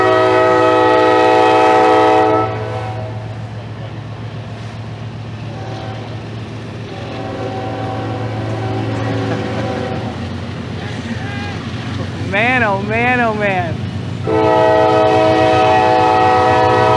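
A train rolls past with a heavy low rumble as its horn blows in long harmonic blasts, one wavering, alongside a voice speaking.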